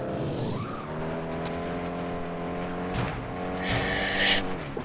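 Race cars in the video game FlatOut 2 drone with a continuous rising engine whine, joined near the end by a loud, harsh burst of tire skidding.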